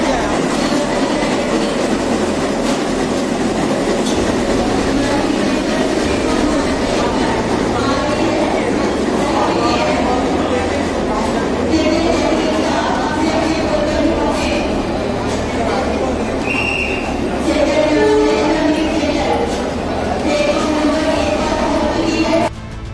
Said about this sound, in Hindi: गुजरात से 1213 प्रवासी मजदूरों कामगारों को लेकर ट्रेन बरेली जंक्शन प्लेटफॉर्म पहुंची